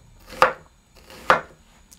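Knife chopping an onion on a cutting board, two sharp separate cuts about a second apart, close and clear against a quiet background.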